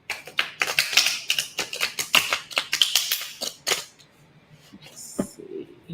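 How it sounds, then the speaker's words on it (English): Deck of playing cards being shuffled by hand, a close, dense burst of rapid crisp flicking and tapping for several seconds that then drops to a few scattered clicks. "So let me just shuffle the cards one more time."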